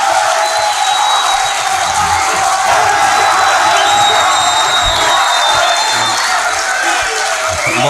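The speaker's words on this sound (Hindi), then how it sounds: "भरपूर तालियों में इस्तकबाल कीजिए" A large audience at a poetry gathering applauds and cheers steadily in welcome of poet Tehzeeb Hafi, a dense, loud wash of clapping with scattered shouts and whoops throughout.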